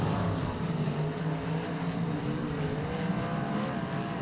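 Modified race cars roar around Greenstone Park Speedway, a sustained loud engine drone with a wavering, buzzing pitch as the field runs past continuously, with no clear speech over it.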